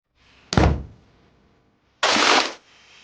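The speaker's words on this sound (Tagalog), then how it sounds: "narinig ko na lang ang malakas na pagkalabog sa pinto" Two loud thuds of someone banging on a door, used as a sound effect in a spoken horror story about an aswang: a sharp single bang, a pause, then a longer heavy pounding, with no talk.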